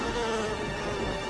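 Mosquito buzzing in a Raid insecticide commercial, a steady, close, whining drone that holds level without a break and with no voices over it.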